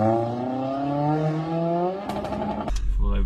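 A Toyota RAV4 hybrid with its 2.5-litre engine revs in the snow, a rising harmonic drone climbing steadily for two seconds before breaking into rough, clattering bursts and a low thump near the end.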